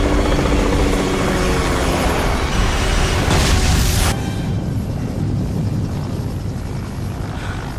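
Loud, steady helicopter rotor roar in the film Titanic 2, with heavy low rumble, swelling to a burst of broadband noise before settling back to a continuous drone.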